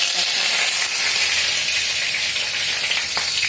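Rice grains and whole spices fry in hot oil, with dried chillies and bay leaves among them, making a loud, dense, continuous hiss and crackle up close, with no speech over it.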